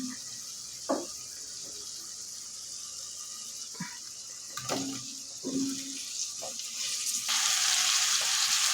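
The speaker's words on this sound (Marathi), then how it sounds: "सर्व मसाले व्यवस्थित परतून घ्यायचे दोन मिनिट" Spices and mixed vegetables sautéing in a pan for sambar, a steady sizzle with occasional spatula knocks and stirring scrapes, growing louder and hissier toward the end.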